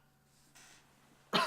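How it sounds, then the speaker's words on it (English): A single brief cough or throat clearing comes at the very end, faint and set back from the microphone, after near-silence with a low hum during a football management game session. "You may hear me coughing away from the microphone a couple of times as well here"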